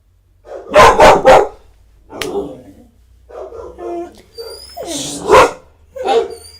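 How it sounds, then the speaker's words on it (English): A pet dog barking indoors in a home, bursts of loud close barks with softer yips and whines in between, spread through the stretch without speech over them. "If you're gonna bark, you gotta go out there, okay?"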